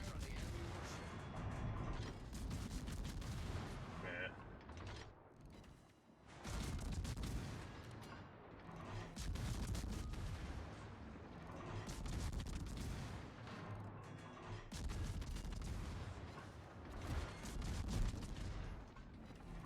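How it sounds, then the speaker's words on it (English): Warship gunfire in a naval battle game comes as dense, rumbling booms and mechanical clatter that keep up throughout, with a few brief dips, loud and busy. "Concentrate fire on the enemy warship"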